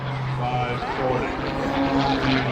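An Edge 540 aerobatic monoplane flies at an air show, its propeller engine droning steadily and loud with shifting pitch, while a voice talks over it.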